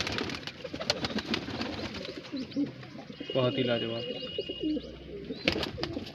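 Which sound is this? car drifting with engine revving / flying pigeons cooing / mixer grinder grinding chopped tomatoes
flying pigeons cooing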